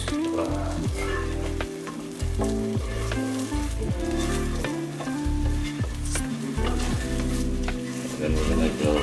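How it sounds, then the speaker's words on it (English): Butter sizzles loudly and continuously in a pan while being stirred, with occasional scrapes and knocks of the utensil against the cookware, made while cooking penne alla vodka. "So we're gonna put some butter in."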